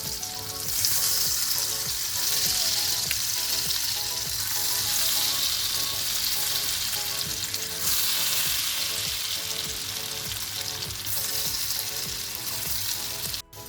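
Pieces of elephant foot yam and egg snack sizzle steadily in hot oil, a dense continuous frying hiss with small crackles throughout, close and fairly loud, with no talking.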